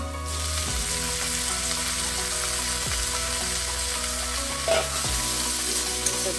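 Gima greens fry in a pan with a loud, steady sizzle, while several sweeping scrapes of a spatula stir them at regular intervals, close and continuous with no talking.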